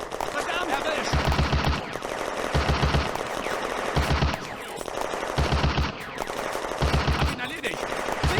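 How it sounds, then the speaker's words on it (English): In a WWII Eastern Front video game battle at Nesterenky village, July 1943, a machine gun fires in repeated loud bursts about a second apart, each a rapid rattling stream, mixed with other battle noise and voices. "Vetter's section targets Soviet infantry in the open."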